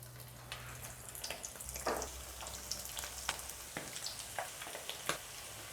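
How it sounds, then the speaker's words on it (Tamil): Mutton kola balls dropped one by one into hot oil on a slow flame, giving a soft, crackling sizzle with scattered pops and clicks over a low background hum. "அடுப்பை ஸ்லோ ஃப்ளேமில் வச்சுட்டு நான் ஒவ்வொரு உருண்டையாக அப்படியே சேர்த்துக்கிறேன்."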